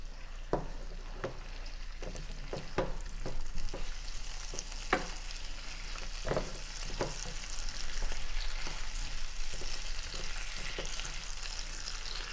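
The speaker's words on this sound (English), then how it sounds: "So the steak will be seared in this." Food sizzling and frying in a pan under steady broadband hiss, with repeated spatula scrapes and clicks as pieces are stirred; the speaker plans to sear steak in the pan alongside softening peppers and onions for skewerless kabobs. No speech.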